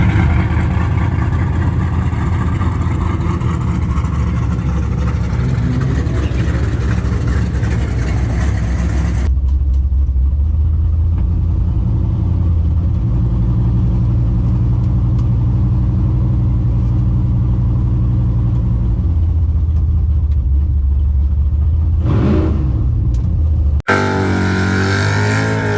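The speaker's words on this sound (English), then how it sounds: "we're gonna hot lap the car and see how it does" A Nova drag car making a hot lap at Bristol roars loud and close for several seconds, drops to a deep, steady low rumble for a long stretch with one brief rising burst, then swells back to a loud broadband roar at the end.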